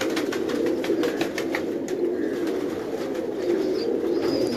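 Rampuri pigeons cooing in a dense, continuous low murmur, with occasional wing flaps and faint chirps mixed into a loud, busy background.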